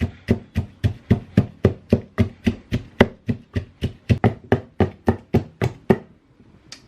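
Steady pounding of ingredients for mbika, a Congolese dish made with ground seeds, about twenty evenly spaced, thudding blows in a mortar that stop abruptly near the end, with no talking.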